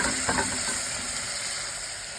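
Vegetables with drumstick pieces fry on low heat in a pan for a baby potato veg paya, giving a steady close sizzle broken by a few scraping stirs near the start, with no talking.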